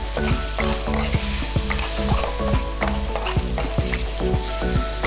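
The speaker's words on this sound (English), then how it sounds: "Add 1 tablespoon of palm sugar, stir it all in, cook it down." Pork and green beans with red curry paste and palm sugar sizzle steadily in a hot pan while being stirred, with regular scraping strokes over constant frying, close and loud with no talk.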